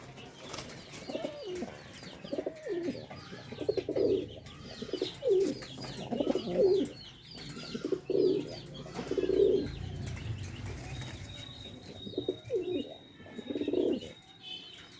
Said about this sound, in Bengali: কবুতরগুলো কেমন অ্যাক্টিভ এবং ডাকতেছে